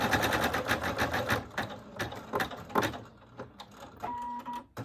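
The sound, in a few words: embroidery machine stitching a patch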